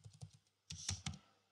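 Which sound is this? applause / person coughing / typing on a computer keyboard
typing on a computer keyboard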